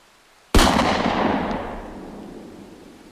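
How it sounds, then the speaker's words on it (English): A gunshot effect for an audio drama: a single sharp, loud crack after a moment of quiet, followed by a long fading echo tail. "A terrifying click followed by a deafening crack of gunfire."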